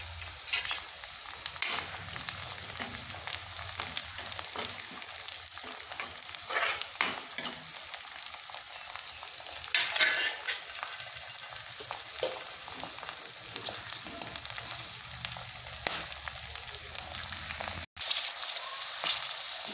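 Green peas frying and being stirred in a pan, a continuous close sizzle with scattered spoon scrapes and clicks, steady and fairly quiet, no voices.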